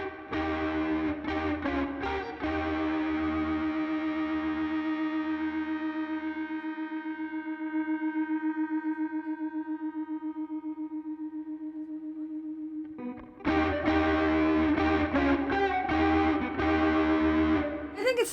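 Electric guitar played loud through a distortion patch on a Line 6 POD Go Wireless, with chorus and echo effects, a sustained chord ringing out and decaying before heavy riffing resumes at full volume.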